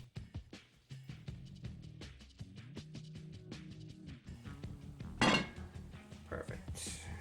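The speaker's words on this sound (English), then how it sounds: "we cover the pot, place it in the oven" A cast iron pot holding BBQ brisket is covered with its lid and set into the oven, giving scattered clinks and knocks of metal and one sharp clank partway through.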